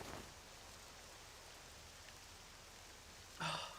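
Steady rain in the Octopath Traveler 2 game world, a constant soft hiss of falling water filling the scene, with a brief brighter burst near the end.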